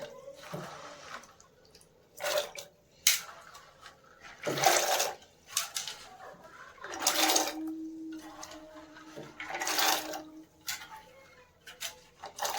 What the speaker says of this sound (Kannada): ನಾನಿವಾಗ ಅವರೆಕಾಳನ್ನ ತೊಳೆದ್ಬಿಟ್ಟು ನೀರಿಗೆ ಹಾಕ್ಕೋತೀನಿ